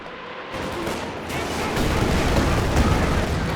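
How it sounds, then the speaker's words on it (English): A Katyusha rocket artillery volley in the Company of Heroes 2 strategy game hits as a loud, rolling barrage of booms that swells into a sustained rumble and carries through to the end. "There's the Katyusha."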